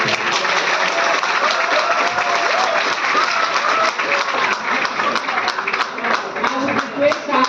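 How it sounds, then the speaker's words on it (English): A large audience at a motivational session for first-year engineering students gives sustained, loud applause, a dense, even wash of clapping with voices mixed in throughout. "So I would request you to give a huge round of applause."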